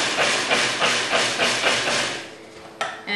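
Food processor pulsing brown sugar with cinnamon in short rhythmic bursts, about seven quick whirring pulses in a row before stopping, close and moderately loud.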